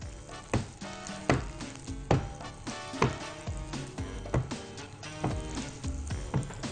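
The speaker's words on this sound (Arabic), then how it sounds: "هسيح الزبده عندي على النار" Butter sizzles in a pan on the stove, a bright steady frying hiss punctuated by repeated sharp clacks from stirring or utensil knocks at a fairly even pace, heard close and without talk.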